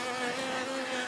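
Bees swarm around a backyard beehive on a still winter day, a dense, continuous close buzz with no talking.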